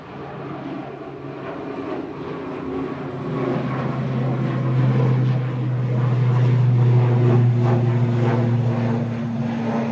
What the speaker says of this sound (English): Flight 3619 heading back to Belfast here for Aer Lingus Regional ATL 72600.